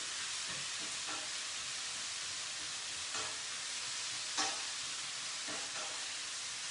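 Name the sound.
onions cooking slowly in ghee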